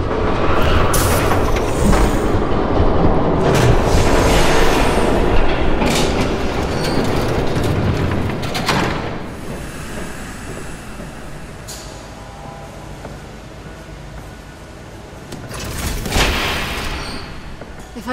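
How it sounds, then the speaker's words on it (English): A train approaches in Batman: The Telltale Series, a loud rumbling roar with clattering wheels and metallic screeches that builds, thins out, then swells again near the end. "There's a train coming!"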